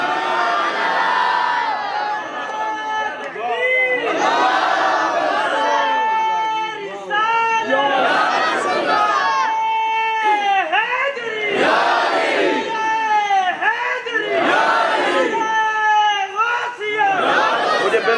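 A large crowd at a religious gathering in Faisalabad roars back a slogan in repeated, loud waves of massed shouting, with each chanted response swelling and falling across the clip.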